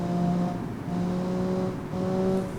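Car engine running in the tycoon game Automation, a continuous droning tone that rises in pitch across repeated gear pulls, moderately loud with no talking.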